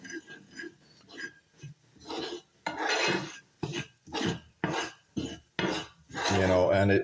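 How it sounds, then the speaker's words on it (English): Indian chicken curry ingredients, including chili powder, being stirred together into a paste in a pan, giving repeated loud scraping and clattering of a utensil against the metal in uneven bursts, with some quieter gaps in between. "mix everything in."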